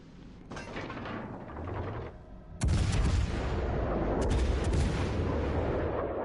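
Heavy battleship main guns fire in a World of Warships naval battle, starting with a muffled rumbling barrage and then two loud, booming salvos that hit hard and roll on, with no talking.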